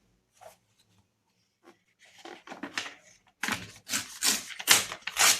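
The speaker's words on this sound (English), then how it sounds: "I'm going to tear off 3 pages." Pages torn from an old book give several sharp, close ripping and rustling bursts of paper, starting faint and sparse, then louder and more rapid toward the end.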